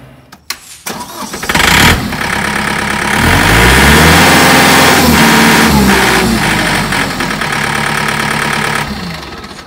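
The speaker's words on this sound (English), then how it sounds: "That's the most powerful sound there is in the world, and it feeds the world. John Deere tractors." A John Deere tractor engine cranks and catches, then runs loudly with a deep, steady rumble and a slight knock for several seconds before the pitch settles, heard alone without voices.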